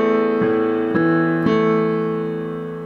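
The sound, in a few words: piano playing with left-hand arpeggio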